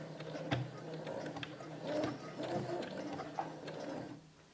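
A sewing machine stitches a dish towel with bias binding and broderie anglaise trim, a close mechanical whir with rhythmic needle clicks, running in short bursts and stopping near the end.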